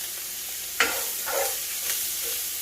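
Sausage sizzles in a hot pan set just above medium-high for country sausage gravy, with a sharp hiss as the meat lands, followed by a steady crackling fry and a few softer bursts of stirring.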